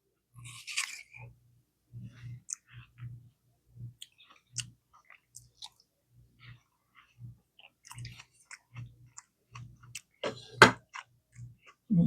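Someone bites and chews watermelon close up, a rhythmic series of soft crunchy, wet chomps with a sharp louder crunch near the end, in an otherwise quiet space.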